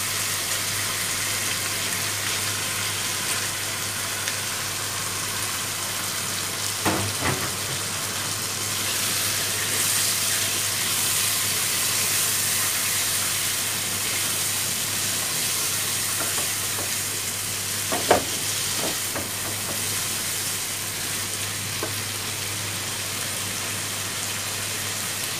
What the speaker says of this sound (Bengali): এবার কলিজাগুলো দিয়ে দিব।